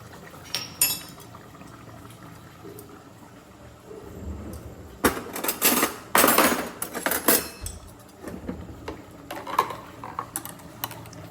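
Ghee-fried raisins, cashews and coconut tip into a cooking pot with a burst of sizzling, clattering pieces and a scraping spoon, preceded by quieter kitchen handling and metal clinks.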